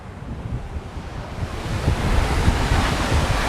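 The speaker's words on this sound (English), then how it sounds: "The ocean and the waves hitting the rock." Ocean waves break against rocks along a scenic coastal trail at Fengbin, Taiwan, in a continuous loud roar of surf mixed with heavy wind buffeting, with no voices.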